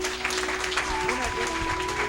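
Congregation applause at a church ordination ceremony, a steady wash of clapping that fills the clip, with voices and a sustained tone underneath.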